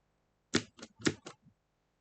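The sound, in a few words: pressing control and space on a computer keyboard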